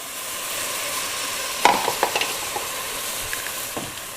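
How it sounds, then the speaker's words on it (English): Seafood stock stirred in a pot for a crocodile dish: a steady sizzling hiss runs throughout, with a brief cluster of soft scraping clicks from the spoon in the middle. "we're gonna stir that around for a little bit"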